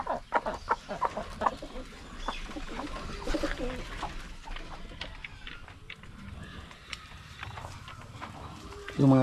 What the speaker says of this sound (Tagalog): pag may mga feeds na matalsik sa ilalim, yung manok yung kumain